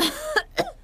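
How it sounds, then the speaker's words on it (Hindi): Two short, sharp coughs, close and moderately loud, following a brief throat-clearing sound, with a quiet pause between them. "खांसी भी आ रही है"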